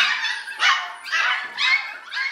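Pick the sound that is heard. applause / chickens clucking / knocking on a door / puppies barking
puppies barking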